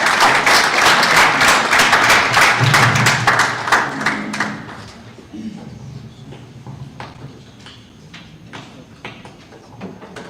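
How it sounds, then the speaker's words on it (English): A warm round of audience applause at a World Cancer Day celebration, dense and loud clapping for about five seconds before it thins out into scattered claps and low crowd murmur. "a warm round of applause to Dr. Clem"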